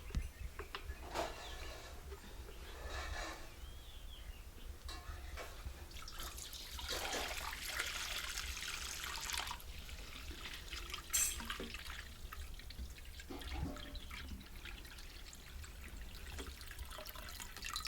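Fresh cow's milk is poured into a pan as a soft, quiet liquid splashing that swells in uneven surges, strongest through the middle, with faint drips between.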